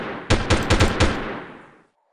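Gunfire in the video game Delta Force: a loud, close burst of about five rapid automatic shots, followed by a decaying echo that fades to silence.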